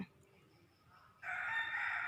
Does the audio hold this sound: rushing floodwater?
no